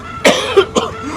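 A person demonstrates a cough with a gasp: two short, harsh cough bursts separated by a sharp indrawn breath, close and loud with no other sound.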